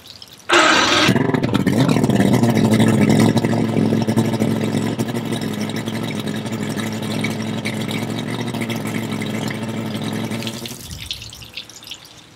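An Evinrude 150 outboard boat engine, carburetors set to factory idle mixture, starts abruptly and runs at a steady, loud drone for about ten seconds before cutting off.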